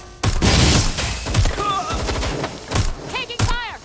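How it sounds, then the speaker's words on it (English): Automatic gunfire in the video game Watch Dogs Legion: close, loud bursts of rapid shots, then scattered single cracks and ricochet whines, with shouting voices partly mixed in. "Suspect has opened fire."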